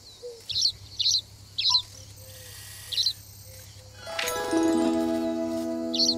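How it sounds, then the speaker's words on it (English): A house sparrow in the video game Alba: A Wildlife Adventure gives short, bright chirps in spaced bursts. About four seconds in, a layered game music chime swells and sustains beneath further chirps. "House Sparrow."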